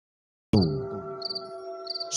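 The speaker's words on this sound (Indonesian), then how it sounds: "Suara jangkrik" After a moment of silence, crickets chirp in short, evenly spaced bursts over a low steady hum, fairly quiet and close.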